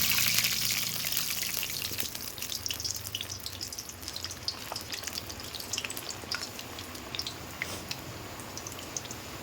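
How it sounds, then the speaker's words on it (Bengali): Luchi, a puffed Bengali flatbread, fries in hot oil in a steady, soft crackling sizzle. Scattered pops and spatters sound close by, and no one speaks. "এখন আমরা এর মধ্যে এক এক করে লুচি ছেড়ে দেবো।"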